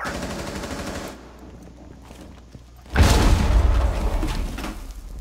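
Bursts of rapid automatic gunfire in a Rainbow Six Siege match, loud and close, with a quieter stretch before a dense volley of shots resumes.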